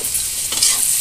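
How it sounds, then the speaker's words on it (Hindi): Chickpeas frying in hot oil for a Bihari dish, with soybean pieces already roasted in oil beside them; a steady, close hiss of sizzling oil with light stirring throughout, no voices. "चना थोड़ा आधा पूरा फ्राई हो जाएगा"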